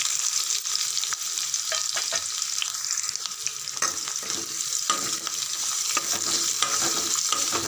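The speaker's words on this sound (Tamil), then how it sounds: "ஒரு 2 செகண்ட் நல்லா வதங்கட்டும்." Sliced onion and two large peeled garlic cloves sautéing in a hot pan for a Tamil vendakkai kaara kuzhambu, a steady close sizzle with scraping stirs throughout, no voices.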